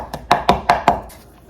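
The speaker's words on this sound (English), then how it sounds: "Just chopping this like lemon verbena." A knife strikes a cutting board in five sharp, evenly spaced chops through fresh lemon verbena, close and clear, then the sound trails off.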